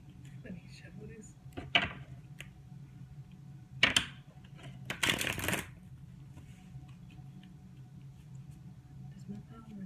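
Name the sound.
shuffling tarot cards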